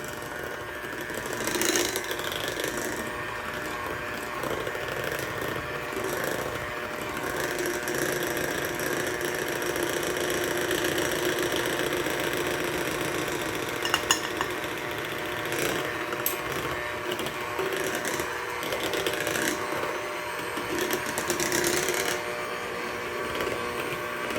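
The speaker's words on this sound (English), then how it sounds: "now we're going to go ahead and mix it with our mixer" Electric hand mixer whirring through cooked sweet potatoes for a casserole, a steady buzzing motor hum with rattling from the beaters, close and continuous.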